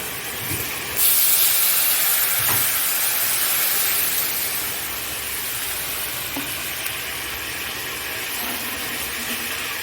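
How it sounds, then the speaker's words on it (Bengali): Water is poured into a hot pan while cooking a Bengali parshe fish curry, giving a sudden loud hiss and sputter of steam that settles into a steady sizzle for about nine seconds, with no talking. "জল দিয়ে দেবো"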